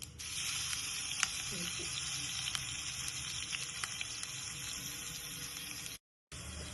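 Cumin with ginger, garlic and green chili paste hitting hot oil for dum aloo, a loud, even, hissing sizzle with occasional small pops, close and continuous until a brief cut near the end.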